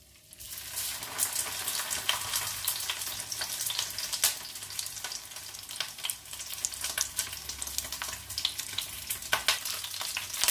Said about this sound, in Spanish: Ya tenemos el aceite caliente, veis que sale humo, y vamos a echar el codillo.